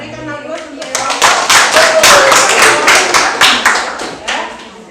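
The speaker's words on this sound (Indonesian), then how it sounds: "Kita berikan aplaus untuk kelompok" A classroom group applauds loudly after a presentation, a dense burst of clapping from many hands with voices mixed in.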